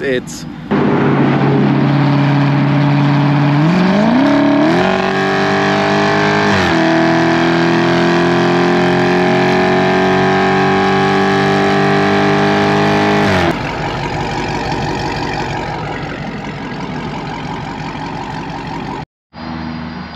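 A widebody Dodge Challenger Scat Pack with a 6.4-litre naturally aspirated engine revs loudly close by, its throaty exhaust climbing in stepped surges and holding a high drone before dropping to a rough idle, with a brief word spoken.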